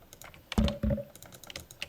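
Short burst of typing on a computer keyboard, a few clicks and a pair of heavier key presses close by, with no talking.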